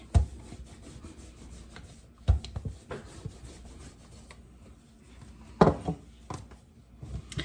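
Chicken dumpling dough rolled out on a wooden surface with a rolling pin, soft repeated rubbing passes with a few sharper knocks at the start and near the end, close and fairly quiet.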